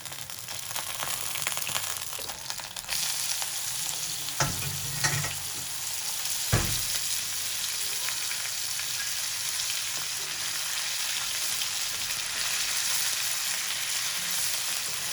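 One kilogram of hand-pounded minced beef sizzles and crackles steadily in a hot pan, with a couple of soft clanks from stirring partway through.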